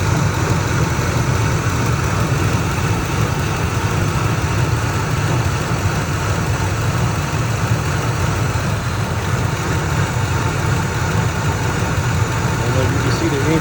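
Engine of a 2003 Ford Expedition idling about six minutes after start-up, a steady low rumble that holds even and continuous from start to finish, with talk over it.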